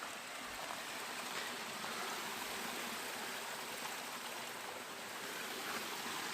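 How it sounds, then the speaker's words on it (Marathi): River water rushes in a steady, unbroken wash of broadband noise that stays even in level from start to finish, with no voices. "ज्याने प्रभास निवडी मारली ती हीच नदी"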